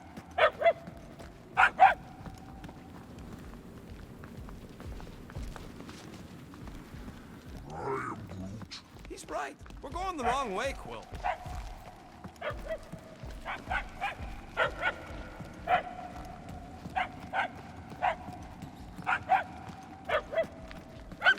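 A dog barks in short, repeated bursts inside a video game hallway, moderately loud and spaced out, while characters talk over game ambience.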